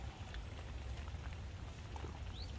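Heavy rain falls steadily around a carp fishing spot after hours of downpour, a faint, even patter and hiss with occasional drops, with no talking.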